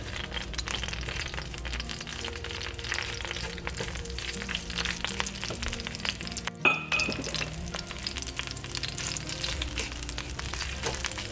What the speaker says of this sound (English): you can add the curry paste in. Just give it a little sizzle here.